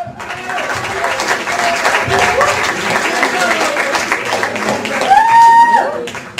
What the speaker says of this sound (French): Nous accueillons sous vos applaudissements Monsieur Pelé